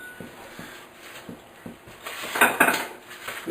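A wooden spoon mixes bagel dough in a bowl, giving a series of soft knocks against the sides that build into louder, clattering scrapes midway.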